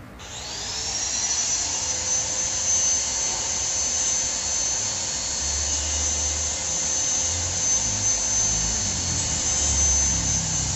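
A power tool grinds steadily along the cut edge of a flower pot, smoothing it before tiles are glued on for a koi pond waterfall; a continuous loud high whine holds for about ten seconds, with no talking.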